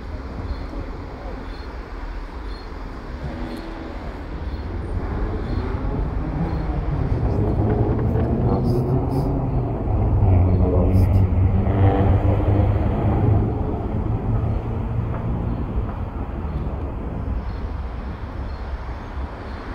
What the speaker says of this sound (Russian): Такой вот вокзальчик